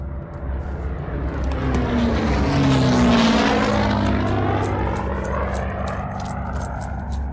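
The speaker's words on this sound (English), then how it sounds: "Here comes another plane." A propeller airplane passes overhead in the WWII shooter game Hell Let Loose, its engine drone swelling loud toward the middle and then easing away as the pitch drops, with no voices over it.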